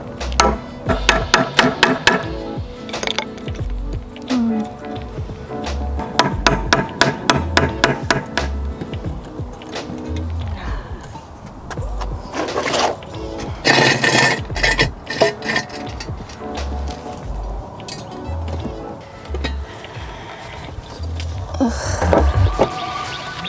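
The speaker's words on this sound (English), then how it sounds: "I need to chisel this way first against the grain" Bursts of rapid, sharp hammer blows driving a chisel into wood against the grain, loud and close, in quick repeated runs separated by pauses and scraping.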